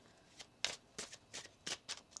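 Tarot cards are shuffled by hand up close in a quiet room, giving about six soft, rhythmic riffling bursts in quick succession.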